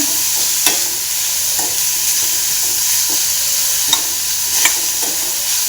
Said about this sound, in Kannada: ನೀಟಾಗಿ ಫ್ರೈ ಮಾಡಬೇಕು